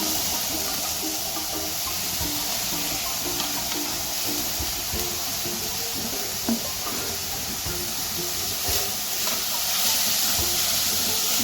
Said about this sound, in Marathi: कांदा परतून झालाय आपला, भाज्या टाकून घेऊ आता आपण सगळ्या.